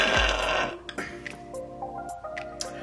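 A loud, deep burp rumbles close up at the start, followed by quieter clicks, taps and faint room noises.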